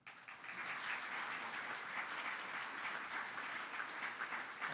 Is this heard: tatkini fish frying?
no